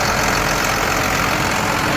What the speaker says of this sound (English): It's John Deere 7810.